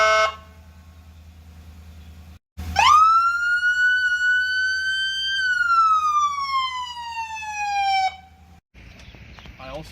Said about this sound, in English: That basically is just lights and sirens and all the different arrays we can make.